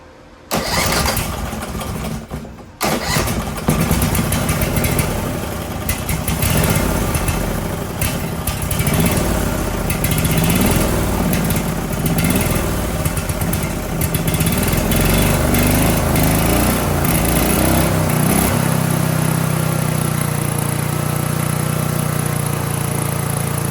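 A Briggs and Stratton 18 HP Vanguard gasoline engine sputters, catches and runs loud and steady close by, its pitch wavering slightly before settling near the end.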